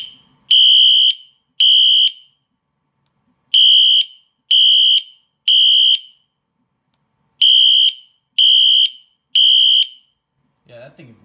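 Wheelock Exceeder HSRC horn/strobe set to high volume, blaring loud piercing horn blasts in repeated bursts of three with pauses between, ending with a brief burst of voice.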